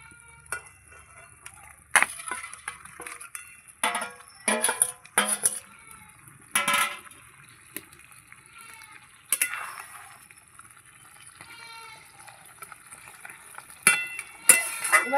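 Fried prawns go into a milk gravy in a pan for a coconut-free malai curry, with intermittent spoon clinks and scraping against the pan over a soft background hiss.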